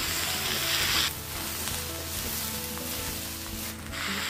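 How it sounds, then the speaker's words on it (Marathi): Tender bamboo shoot vegetable stir-fried in a pan with cooked masoor lentils, a steady close sizzle and frying crackle running throughout, briefly louder at the start and end, with no voices. "त्यानंतर घालूयात शिजवलेली मसूर आणि सर्व पुन्हा एकदा परतून घेऊयात।"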